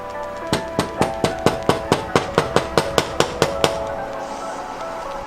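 A fresh lime is zested by rubbing it like a nail file, giving about fourteen quick, evenly spaced rasping strokes up close, then the strokes stop and only quiet background remains.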